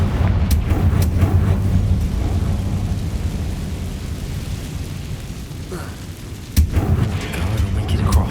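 Explosive fire-spell blasts in the video game Hogwarts Legacy, deep booming thumps and crackles over a continuous rumbling background, with sharp impacts near the start and again later.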